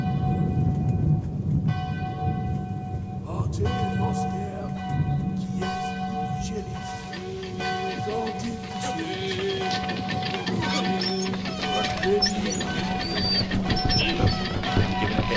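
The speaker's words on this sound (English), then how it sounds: "it starts with the express elevator to hell going down" Express elevator descending as a dark fantasy soundscape effect for Claustrophobia 1643: loud, continuous layered drone with resonant metallic bell-like tones and rumbling throughout, steady without pauses.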